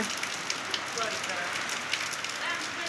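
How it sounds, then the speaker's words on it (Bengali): Heavy rain driven by wind pours down outdoors as a steady, dense roar and patter, with occasional louder drops striking nearby surfaces. "প্রচুর বৃষ্টি আর বাতাস হচ্ছে"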